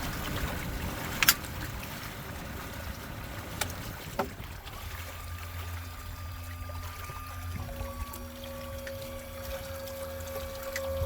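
A MacGregor 26M sailboat glides under sail with its motor shut off near Annapolis, with a low steady wash of water along the hull, faint wind and a few small knocks and creaks, no one talking.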